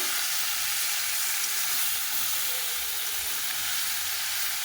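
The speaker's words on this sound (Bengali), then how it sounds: "দু একবার নাড়াচাড়া দিয়ে এবারে ঢাকা দিয়ে দেবো সবজিটা মজে গেছে" Vegetables sizzle and hiss steadily in a hot pan while being stirred, a dense continuous frying sound close up with no talking.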